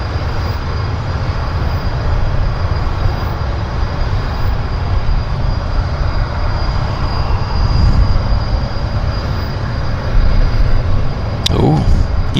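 A jet aircraft takes off at Vancouver airport, a loud, steady broadband roar that holds for the whole stretch and swells slightly toward the end.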